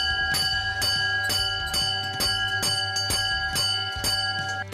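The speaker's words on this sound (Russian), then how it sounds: "на передовом конно-бочечном ходу устанавливали колокол" A clanging bell mounted on a lead horse-drawn fire wagon with a water barrel rings in a quick, steady rhythm, about nine bright, ringing strikes in under five seconds, close and clear.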